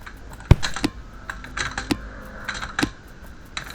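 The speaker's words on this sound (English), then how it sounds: "Sorry for the keyboard noises." Computer keyboard typing during play of Blue Lock Rivals: sparse, sharp key clicks and clacks in irregular bursts, close and crisp, with quieter tapping between them.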